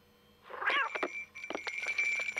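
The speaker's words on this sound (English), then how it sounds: "It's a cat video, Benson." A cat meows loudly in a drawn-out, wailing call, followed by further rougher, caterwauling meows, all clear and up close in a cat video.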